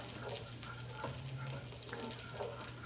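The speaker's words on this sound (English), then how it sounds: "I'm just going to toss that garlic into the extra virgin olive oil, just like that" Garlic sizzling in extra virgin olive oil over a medium to low flame: a faint, steady crackling fry with light stirring scrapes, no voices.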